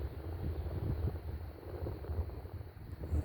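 Outdoor wind gusts buffet the microphone in a steady low rumble, fairly loud and continuous, with no voices.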